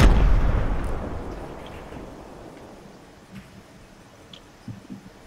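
Grenade blast in Fortnite gameplay: one loud booming explosion opens the moment and rumbles away over several seconds, followed by faint scattered game pops and thuds.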